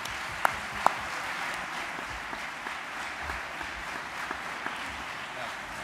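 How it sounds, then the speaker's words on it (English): An audience applauding panelists at the close of a public climate change discussion event, a moderate steady patter of clapping heard from a distance, fairly quiet, with a couple of sharper claps near the start. "Please, a round of applause for all our panelists."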